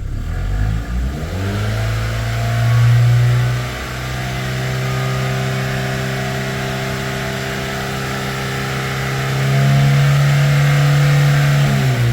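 A Skoda Octavia Tour with the 1.6 BFQ petrol engine revved and held at raised revs, its steady hum climbing, holding and dropping back twice, loud and close with no talk.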